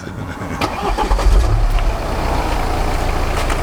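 A BMW car engine cranking and catching, rising to a loud close roar and then settling into a steady idle, no talking.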